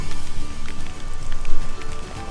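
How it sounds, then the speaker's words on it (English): Rainfall in the video game Xenoblade Chronicles 2, a steady dense patter of drops over a low rumbling ambient bed, continuous and fairly loud throughout with no voices. "Oh, it's raining."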